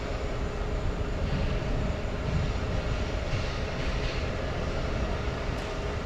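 A Turkish Airlines jet taxiing at JFK airport, a steady broadband engine rumble and roar heard from a distance, continuous and even for the whole stretch with no voices.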